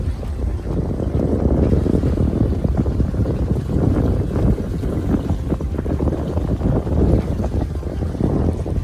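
Sailboat heeling slightly under sail on a delivery trip, heard as a constant loud rush of wind buffeting the microphone with water noise beneath, no voices.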